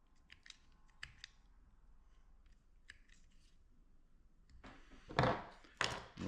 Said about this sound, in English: We're going to just snip a little bit of this off